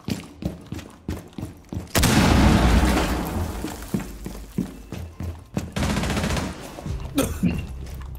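Gunfire from the video game Rainbow Six Siege, with sharp single shots and short bursts that surge into a long, loud sustained volley, then drop back to scattered, punchy reports.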